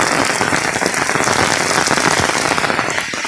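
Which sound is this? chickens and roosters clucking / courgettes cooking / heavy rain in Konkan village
heavy rain in Konkan village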